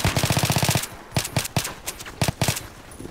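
Rapid automatic gunfire in the Battlefield 2 mod Nightfall 2048, first a dense burst of about a dozen close shots, then scattered single and paired shots trailing off.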